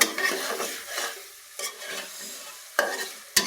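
Chicken bones and spices being stirred and sautéed in a pan for an ash gourd curry: a steady close sizzle with scraping stirs, plus a few sharp utensil knocks against the pan near the end.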